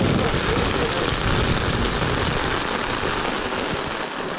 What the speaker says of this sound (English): we're in sheltering from a tropical rainstorm